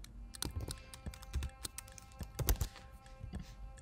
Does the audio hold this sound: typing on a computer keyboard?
yes